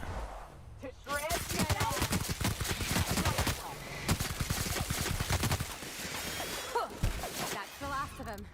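Automatic gunfire in the video game The Outer Worlds: long, dense bursts of rapid shots, loud and sustained across most of the clip, with brief gaps between volleys and a voice speaking over the action.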